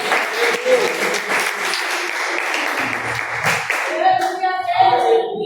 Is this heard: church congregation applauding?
yes